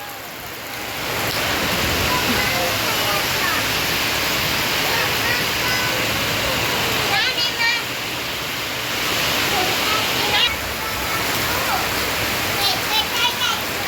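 Heavy rain pours steadily over a rice farm, a dense, loud rushing hiss filling the scene with only small dips, while a voice speaks briefly underneath.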